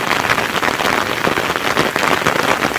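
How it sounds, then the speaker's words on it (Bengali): Rain falls steadily in a Bangladeshi village during the rainy season, a dense, close patter of drops hitting surfaces that continues evenly throughout without any speech. "বৃষ্টি যেহেতু হইতেছে হইব।"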